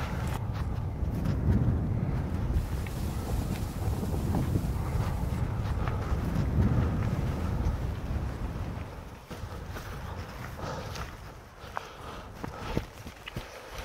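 Strong gusting wind of about 14 m/s buffets a field campsite during tent pitching, a loud, continuous rumbling roar with microphone buffeting that eases slightly toward the end, with scattered faint knocks.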